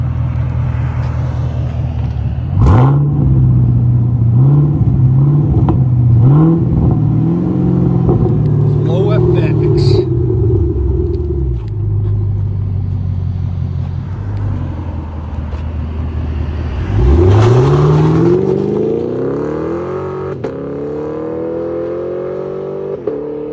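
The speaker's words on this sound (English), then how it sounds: "Chevy Camaro SS." A 2017 Chevy Camaro SS with a 6.2L V8 and Flowmaster Flow FX dual exhaust revs hard in repeated rising and falling sweeps. It is loud and close, with a deep rumble between the blips.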